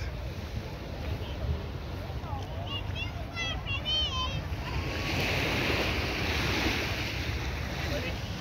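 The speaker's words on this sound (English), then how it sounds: "it's all Browns Beach, which is on the west coast" Surf rolls steadily onto Browns Beach on the west coast of Barbados, a continuous close wash with wind buffeting the microphone, while people talk briefly in the middle.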